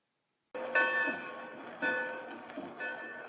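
A Lionel postwar toy train runs on Super O track on a display-style layout, its wheels clattering steadily with repeated metallic clicks over rail joints and a faint bell-like ring, close and alone.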